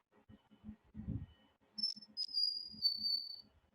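A large-billed leaf warbler sings a few very high, thin whistled notes, near and clear, after some soft low knocking sounds at the start.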